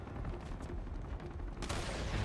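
Rapid gunfire bursts from the video game Uncharted: Among Thieves, a dense crackling barrage over game ambience with no talk, intensifying sharply near the end.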